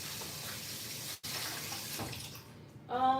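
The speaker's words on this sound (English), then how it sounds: "let me rinse my hands off quickly" A kitchen tap runs in a steady hiss while hands are rinsed under it, with a brief cut in the flow partway through and a clatter near the end.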